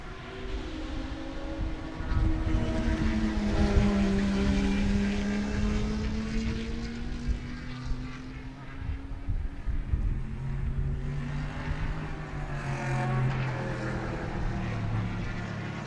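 Big-bore race cars, including a Camaro, lapping Sebring circuit, engines roaring past at a distance with rising and fading passes and a steady background drone.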